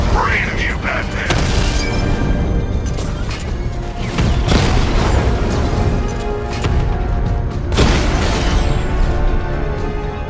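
Batman Arkham Knight gameplay: a drone is blown up, with heavy booms and crashing impacts bursting out of a loud, continuous wash of game noise.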